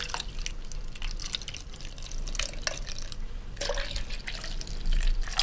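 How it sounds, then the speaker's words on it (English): Water trickles and splashes into a drink bottle at a gym, heard up close with intimate ASMR detail. Soft, continuous pouring is broken by small drips and splashes, with no talking. "I'm going to pop a little bit of water in here for me, for you."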